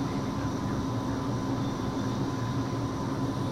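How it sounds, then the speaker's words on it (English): A steady, droning propeller-plane engine in Microsoft Flight Simulator X, a constant hum at moderate level with no variation and no talk over it. "Sorry for the sound of the plane."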